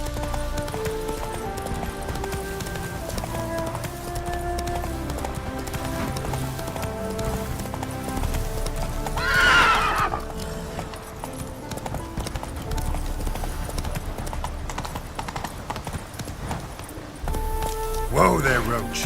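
Roach the horse in The Witcher video game clip-clopping along at a steady trot with rhythmic hoof beats, a short whinny rising partway through, close and prominent under a dense game soundtrack and a voice speaking.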